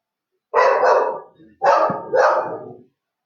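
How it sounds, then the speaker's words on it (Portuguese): A neighbour's dog barks three times in quick succession, close and loud, with short pauses between the harsh, full-bodied barks. "se a gente tem um latido aí do cachorro do vizinho"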